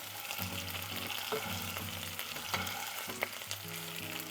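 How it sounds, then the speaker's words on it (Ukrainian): Duck fillet sizzles steadily in a hot pan, a constant crackling fry with occasional sharper pops and faint clinks. "Перевертаємо філе і смажимо з іншого боку ще хвилинок 4-5."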